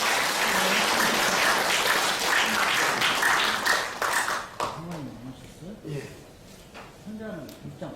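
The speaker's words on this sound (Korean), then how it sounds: "박수 부탁드립니다." An audience at a school gathering applauds to welcome a guest: a dense round of clapping for several seconds that quickly dies away, followed by someone speaking into a microphone.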